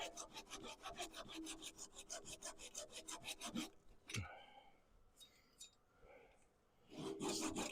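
Hand saw cutting wood across the grain on a woodturning blank, close and steady with a quick regular back-and-forth rasping rhythm, a pause with light knocks, then the strokes resume.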